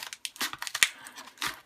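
Scissors snip and crinkle through brown paper bag material for a craft, several quick, close cuts with rustling paper between them, fairly quiet.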